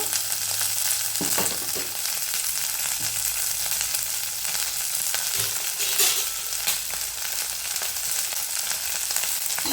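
A chilli and curd mixture fries in hot oil over a low flame, giving a continuous, even sizzle with occasional soft stirring scrapes, steady and close with no one talking.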